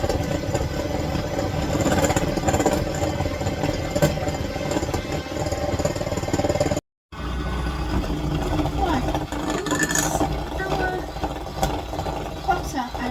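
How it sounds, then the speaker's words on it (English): An electric whisk creams sugar and butter for a Dundee cake in a home kitchen, giving a steady mid-pitched motor whir that runs continuously, cuts out briefly partway, then resumes at the same level. "it's one heck of a lot easier to do it with a proper electric whisk"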